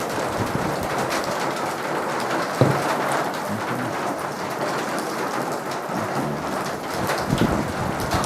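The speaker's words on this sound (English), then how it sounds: "it's going to be raining like this" Heavy rain pours down in a dense, steady hiss, with a rumble of thunder underneath, loud and constant with no talking.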